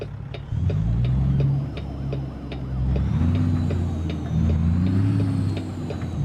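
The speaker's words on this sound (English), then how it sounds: "Started hearing sirens." A police siren wails faintly over the loud, rumbling engine of a cattle-hauling truck in American Truck Simulator, its wavering tone rising near the end.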